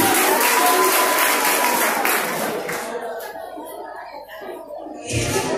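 An audience at a quiz show final breaks into loud applause, heavy clapping that thins out midway and picks up again briefly near the end, with a tonal musical sting over the start and some voices mixed in.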